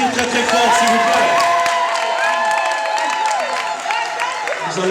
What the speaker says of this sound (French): Est-ce qu'on peut les applaudir très très fort, s'il vous plaît?